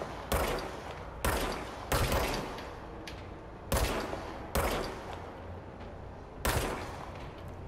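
Service weapon firing in the video game Control, six loud separate shots spaced irregularly about a second apart, each with a short ringing tail, no talk.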